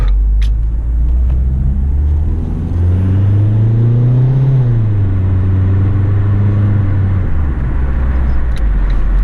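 A 2007 Ford Focus drives along on a test drive. A steady, loud engine drone from inside the car rises in pitch as it accelerates, then eases back down, with continuous road rumble underneath.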